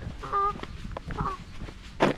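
A goose at Lake Anita in Iowa gives a few short honking, clucking calls close by, with a louder burst near the end amid quiet outdoor background.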